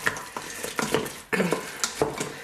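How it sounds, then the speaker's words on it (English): Spoon stirring dense frozen spinach inside an Instant Pot, a series of scraping, clunking strokes against the metal pot at an irregular pace, close up with no voices. "frozen spinach isn't the easiest thing to stir"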